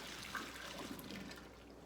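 Cooking water from pasta and broccoli for a healthy chicken broccoli alfredo is poured into a kitchen sink, making a steady, soft splashing trickle that runs without pause for about two seconds.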